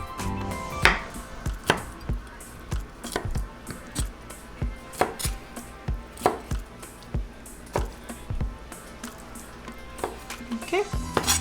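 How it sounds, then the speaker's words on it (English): A knife chops pineapple into bite-size pieces on a cutting board, in steady sharp knocks about once a second, close and clear, with a low kitchen sizzle underneath. "And the pineapples, we're just going to cut them into bite sizes"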